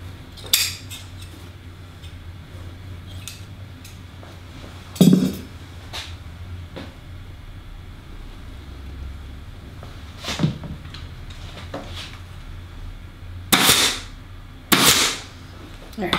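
A staple gun fires a few times into fabric during chair reupholstery, giving sharp isolated snaps spread across a quiet room with a low background hum and small handling noises between shots.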